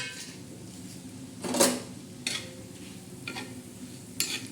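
Dried shrimp (sukat) sizzling on a hot griddle gives a faint, steady crackle, broken by a few clinks and scrapes of a utensil against the pan.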